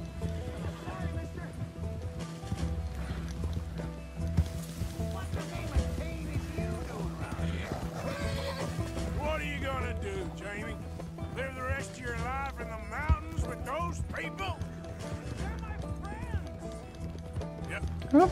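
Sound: horses neighing and galloping in Red Dead Redemption 2 video game

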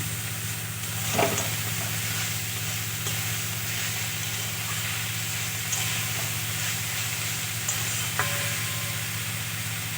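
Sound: frying mustard greens with garlic and green chilli

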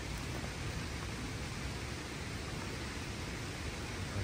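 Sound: nonstop rain

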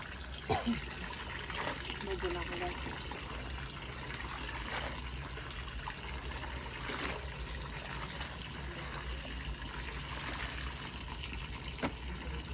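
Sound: water splashing and trickling while washing by hand

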